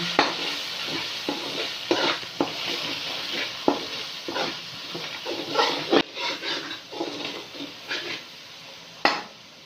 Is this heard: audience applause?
no